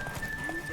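Horse hooves gallop in The Witcher 3 game, a quick muffled clip-clop rhythm at moderate volume over a brief stretch.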